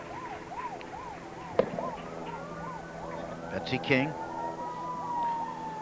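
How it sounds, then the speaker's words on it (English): An emergency-vehicle siren wails in repeated rising and falling cycles somewhere beyond a golf course during a women's championship final round, steady and moderately distant under a commentator's voice, with a brief clicking sound near the middle. "the siren this time is not to say that play is stopped anyway. It's somewhere else."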